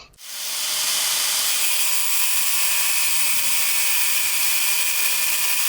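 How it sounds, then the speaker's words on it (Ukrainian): A harsh, steady high-pitched grinding whine starts abruptly and holds level as an angle grinder cuts through a metal bearing ring stuck on a finger, loud and close with no voices. "ми болгаркою розрізали е, ту обойму з підшипника."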